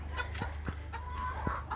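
Pekin or Cochin bantam show chickens cluck softly in breeding cages, a few short, scattered clucks over a steady low hum.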